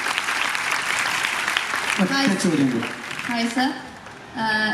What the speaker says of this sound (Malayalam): സാർ ഇപ്പൊ പറഞ്ഞതിന് ഇവിടെ നല്ല കയ്യടി കിട്ടി